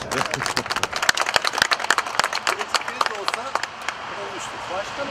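A small group at a groundbreaking ceremony for a new motorway entrance in Sakarya gives a burst of sharp, close hand claps that thins out toward the end, with voices talking over it.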